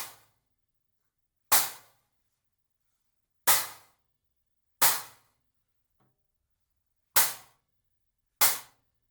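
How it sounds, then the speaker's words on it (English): Edge hits on a homemade clap stack made from cheap hi-hat cymbals: five sharp, bright crashes with quick trashy decays, spaced irregularly in an otherwise quiet room, plus one faint tap between them. "So that's just like the edge hit."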